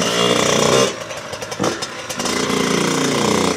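A Yamaha YZ85 two-stroke dirt bike, a full-frame custom build, revs loud and close with a buzzing, raspy whine, drops briefly into a choppy, popping idle, then climbs back into a sustained high rev.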